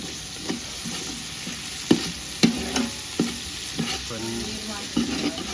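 Garlic paste fries in a pan with a steady, soft sizzle, punctuated by a few distinct knocks and scrapes as a utensil stirs it against the metal. The sound is close, with no talking.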